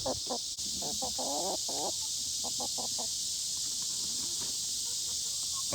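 Chickens on a farm give a quick series of short, pulsing clucks in the first half, then a few scattered softer ones, over a steady hiss of background noise with no talking.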